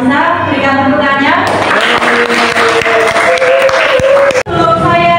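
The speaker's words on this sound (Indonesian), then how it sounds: "Terima kasih kepada Mbak Anissa, berikan tepuk tangannya." Applause for Mbak Anissa in a classroom during a Qur'an Hadith lesson, steady dense clapping from a group lasting several seconds, mixed with talk from the teacher at the start.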